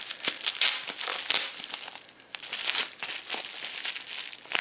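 Packing tape peeled and torn off a mail package, close crinkly ripping and crackling in uneven bursts with short pauses.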